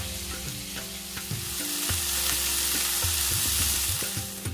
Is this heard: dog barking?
no